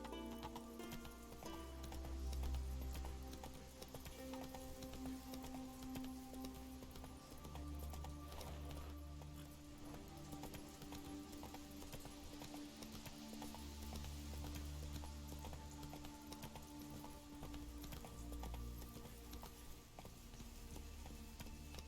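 Roach, a horse in the video game The Witcher 3, galloping with rhythmic clip-clop hoofbeats that repeat steadily and moderately quietly, with low rumbling swells in the background.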